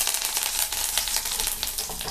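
Mustard seeds and curry leaves sizzle in hot coconut oil in a deep frying pan, a dense continuous crackle and hiss, close and fairly loud, with no voices.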